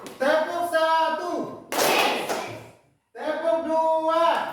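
A class of pupils gives one loud, ragged group clap. The sharp burst sits between stretches of a teacher's voice.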